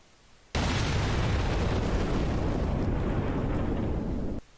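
A gunshot sound effect from a tornado research video game, a single dense blast that holds at full loudness for nearly four seconds before cutting off abruptly, heard alone.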